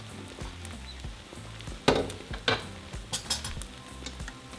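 An egg omelette with chilaquiles fries in a pan with a soft steady sizzle, broken by a few close scraping and tapping spatula sounds as it is turned.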